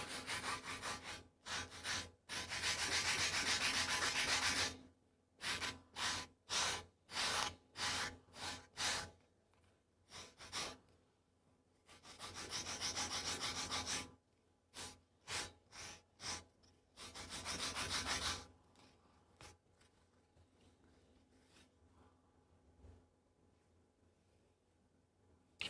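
Hand filing along the edge of a leather knife sheath: several bursts of rough, rhythmic rasping strokes, close and fairly loud, separated by pauses and a few single scrapes, with no voices.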